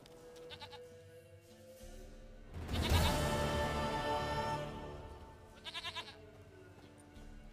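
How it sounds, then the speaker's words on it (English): A goat in The Witcher 3 video game bleats in short, wavering bursts, once early and again near the end, around a louder swell of game ambience and music. "Goat of mine, dearest, sweetest goat."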